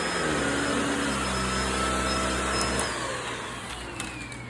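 A standard vacuum cleaner running on a Jackery Explorer 1000 portable power station gives a steady, loud motor whine with a high tonal hum, close and continuous, easing slightly toward the end.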